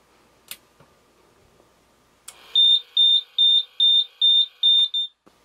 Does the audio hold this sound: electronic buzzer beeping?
yes